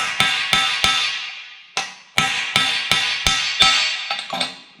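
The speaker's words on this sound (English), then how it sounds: "I'm actually putting some hammer blows onto the sides at the moment." Sharp metallic hammer strikes on the sides of tubular metal sections for a 1920s convertible top ring out in an irregular series, several quick blows, then a pause, then more, close and loud.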